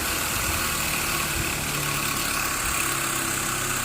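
Harbor Freight Hercules bench grinder whirring nearby in a continuous, even motor drone with a rough, buzzing texture, no talking over it.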